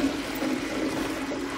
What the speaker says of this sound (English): The toilet flush that has been a meme forever.